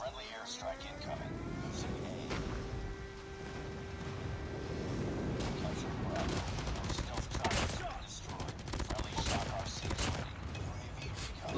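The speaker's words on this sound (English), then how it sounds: "Friendly airstrike incoming." Dense game combat from Call of Duty Mobile, with a rumbling airstrike and rapid bursts of gunfire crackling loudly throughout, thickening in the second half, while a voice talks over the action.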